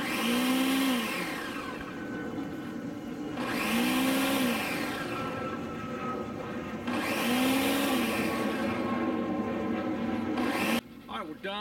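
A countertop blender on its ice cream mix setting whirs with a loud continuous roar whose pitch rises and dips in three repeating pulses, then abruptly cuts off near the end.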